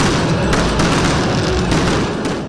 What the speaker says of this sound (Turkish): Ağacın aydınlatılması sırasında düzenlenen törende havai fişekler atıldı.